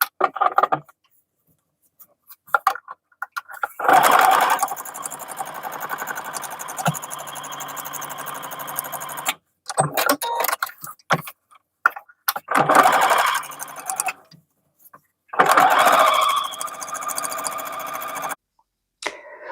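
A sewing machine stitching down the seams of a quilted boxy makeup bag, running in several bursts of rapid whirring separated by pauses, close and clear with no talk.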